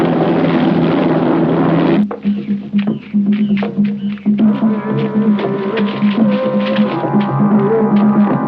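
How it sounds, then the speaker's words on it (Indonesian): A helicopter in a film throbs loudly as a steady rotor drone, then cuts to choppier, intermittent engine noise with shifting pitch. "Terlihat helikopter itu jatuh dan meledak."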